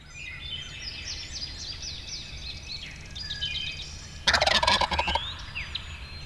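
A wild turkey gobbles once, a loud rattling burst outdoors during turkey season, with faint chirping birds and steady background hiss around it.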